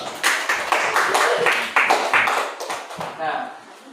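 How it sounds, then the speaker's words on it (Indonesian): Classroom clapping for a student named Haris after he leads a prayer, uneven rhythmic hand claps from a small group, moderately close, tapering off toward the end. "Beri tepuk tangan kepada Haris"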